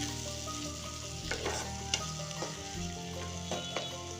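Chopped tomatoes, onions and green chillies frying in a pan for Amritsari paneer bhurji, with a steady sizzle and several clattering spoon stirs close up throughout.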